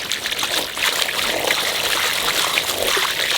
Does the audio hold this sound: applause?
no